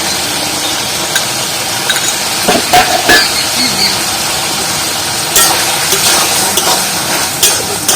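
Whole cumin seeds being stirred and mixed in a frying pan while cooking a palm kernel dish, with faint sizzling and scattered clinks of a utensil against the pan, no talking.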